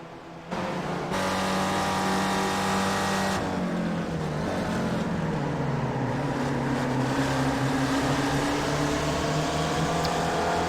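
Pack of race cars battling wheel to wheel on Sebring Club circuit in a sim racing game, a loud steady engine drone with shifting pitches and overlapping revs throughout, no talk.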